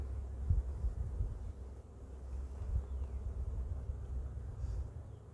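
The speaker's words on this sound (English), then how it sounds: "We got a few bees in the box here" Honeybees inside a wooden hive box give off a low, steady droning hum that swells and eases slightly, fairly close and continuous, with no voices.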